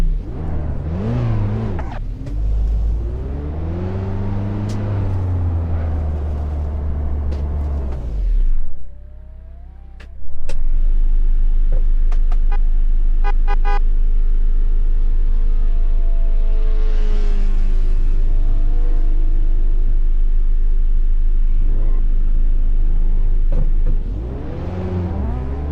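A Mazda Miata's engine in the Assetto Corsa driving game on LA canyon roads, a loud steady drone that rises and falls through revs and gear changes, with a short dip midway and long sustained cruising tones.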